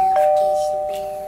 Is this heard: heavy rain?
no